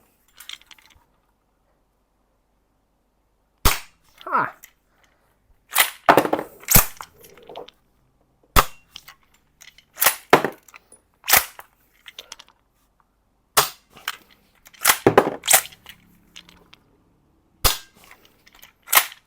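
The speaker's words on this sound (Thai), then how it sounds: "ใส่ลูกเข้าไปดัน ดันกลับให้แรงแล้วก็ยิง" A wooden-stocked Lee Enfield No.1 Mk III bolt-action BB air rifle fires single shots with shell ejection. Sharp, close snaps ring out about ten times across the span, each followed by quick mechanical clacks from working the bolt, with no talking.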